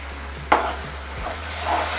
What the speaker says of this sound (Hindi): तो इनको अच्छी तरह मिला देते हैं इसमें।